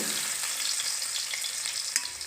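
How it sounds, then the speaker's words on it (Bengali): Chopped onion with cumin seeds fries in mustard oil, making a dense, even crackling sizzle up close, broken by a soft stirring knock and without any voices. "তেলের মধ্যে কিছু জিরা ফোড়ন দিয়ে দিলাম, পেঁয়াজ কুচি দিয়ে দিব"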